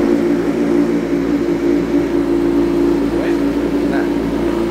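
Kawasaki Z1000 Sugomi with an Austin Racing full-system dual exhaust idling, a steady low rumbling drone with a dry bassy tone, loud and close, with a voice talking over it.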